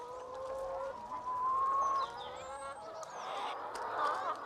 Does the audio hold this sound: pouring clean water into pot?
no